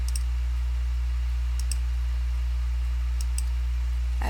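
Scattered pairs of soft mouse clicks, placing points with a path tool, tick sparsely over a constant low hum with long quiet gaps between them.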